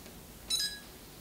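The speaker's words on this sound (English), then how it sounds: "the beep changes and it shows an indicator" A short electronic beep from an HTC Re camera, bright and tonal with a couple of stacked pitches, sounding once over a quiet background.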